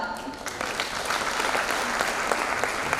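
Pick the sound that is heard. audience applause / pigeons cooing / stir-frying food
audience applause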